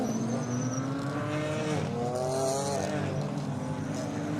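DTM Trophy race cars at the Lausitzring circuit in 2021, a steady loud roar of several engines with rising and falling harmonic tones as cars accelerate and pass, continuous throughout.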